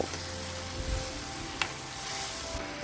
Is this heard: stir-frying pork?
yes